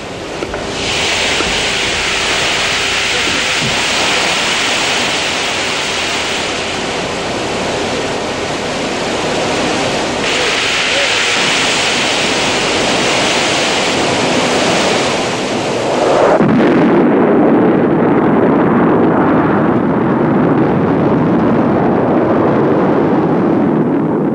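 Roaring A4 (V-2) liquid-fuelled rocket, burning liquid oxygen and alcohol, at takeoff: a loud, steady broadband rush that deepens into a heavier, rumbling roar partway through, with no speech.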